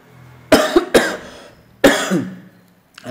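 Several short, sharp coughs close to the microphone, two quick ones followed after a pause by a longer throaty cough, with a brief rustle at the very end.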